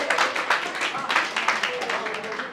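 An audience at a school valedictory service claps in a brief burst of mixed, uneven hand claps, fairly close, with a voice speaking over the applause.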